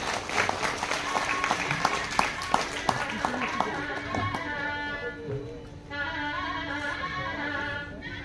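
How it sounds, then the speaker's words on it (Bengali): An audience claps together at the opening of a Bengali literature festival, with dense sustained applause and a few sharper claps standing out, while a voice continues speaking over it near the end. "একটু জোরে করতালি সবাই মিলে"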